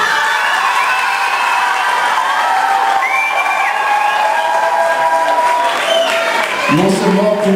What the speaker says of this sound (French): vous pouvez applaudir tous les animateurs qui sont ici derrière